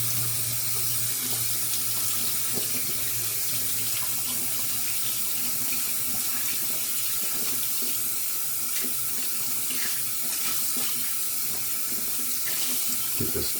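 Water runs steadily from a tap to rinse out a tub, a constant, close, broadband rush that holds for the whole stretch with no voices over it.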